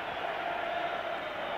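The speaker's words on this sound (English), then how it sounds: "Now the crowd rises." Wembley Stadium crowd rising for kickoff of the 1973 England v Poland World Cup qualifier, a steady, dense roar of massed voices that holds at an even level throughout.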